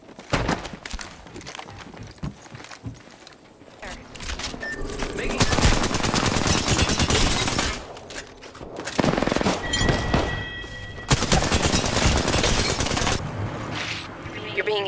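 Gunfire in a multiplayer shooter game comes as loud, close bursts of automatic fire, with long sustained volleys and sharper single shots in between.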